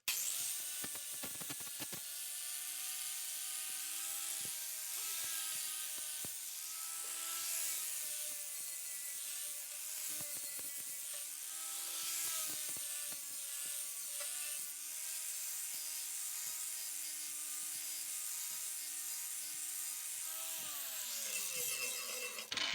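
A 4.5-inch angle grinder works a Lodge 12-inch cast iron skillet being cut into a high-sided griddle, a steady loud metallic whine that runs nearly the whole time with small pitch dips, then winds down at the end.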